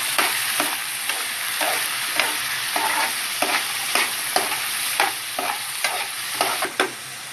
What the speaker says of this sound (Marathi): ह्या मी तेलात परतवून घेणार आहे।